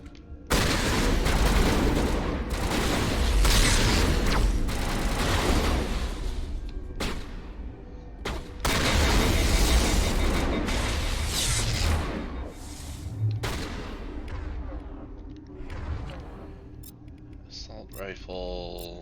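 Gunfire rattles through a Mass Effect firefight, dense bursts of shots and booms crowding the first twelve seconds, then thinning to scattered cracks, with voices speaking between the volleys.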